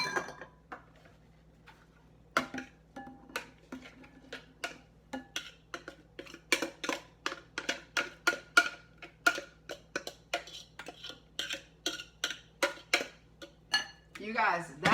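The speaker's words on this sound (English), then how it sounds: "And now I am going to dump out my spaghetti." Raw vegan zucchini spaghetti is tipped out with a series of light clinks and taps of utensils against a dish. The sounds are close, irregular and quick, growing busier toward the end, with a faint steady hum beneath.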